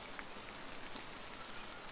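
Steady rain falls in a visual novel game scene, a dense, even hiss of drops with no pauses and no voices.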